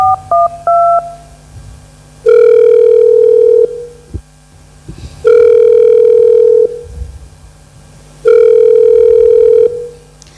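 Quick dialing beeps give way to three long, evenly spaced telephone ringback tones, each about a second and a half with gaps of silence between, clear and close with no one speaking.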